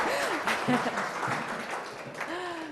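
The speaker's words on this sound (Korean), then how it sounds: "박수 좀 주세요" A lecture audience claps warmly for a book recipient during a talk on men's success, with full, even applause running throughout and brief voices rising over it.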